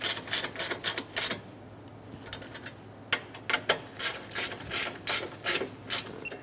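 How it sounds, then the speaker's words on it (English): A ratchet clicks in quick bursts while bolts are snugged down, a series of near, crisp rapid ticking runs separated by short pauses. "Install the 2 top bolts. Snug the bolts down."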